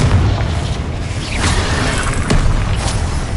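Explosive spell blasts from a Hogwarts Legacy battle, with deep booming rumbles and whooshing bursts rolling continuously and loudly over a dense low-end roar, a couple of sharper pops standing out.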